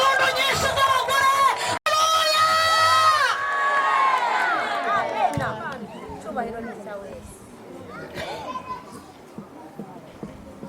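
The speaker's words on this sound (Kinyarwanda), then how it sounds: "impundu nyinshi z'abagore" Women in a church choir gathering trill high ululations over a lively crowd, with loud overlapping cries at first that thin out into scattered calls and chatter.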